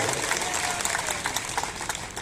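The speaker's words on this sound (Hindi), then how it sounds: "जोरदार ताली माने नरेंद्र मोदी जी के लिए बजाइए" Applause from a crowd at a political rally in Maksudangarh, Guna, Madhya Pradesh rises as dense, loud clapping for a couple of seconds.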